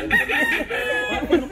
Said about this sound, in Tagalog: Doon may manok sa likod mo